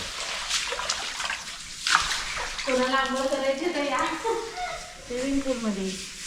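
Water splashes and sloshes across a hard tiled terrace floor while a person talks over the washing, with scrubbing and running water throughout.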